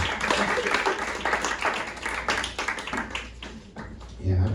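Audience at a stand-up comedy set clapping steadily as a dense, continuous wash of applause that holds at a fairly even level throughout.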